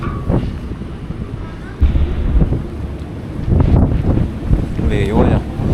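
Gusty wind buffets the microphone on the deck of a large ferry, rumbling and surging in uneven waves, with people talking faintly beneath it.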